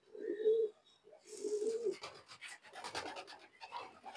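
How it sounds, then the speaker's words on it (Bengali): Female pigeons coo in a loft: two soft, low, close coos in succession, followed by scratchy rustling and shuffling of birds moving about. "তো এখানে সব মাদি কবুতর।"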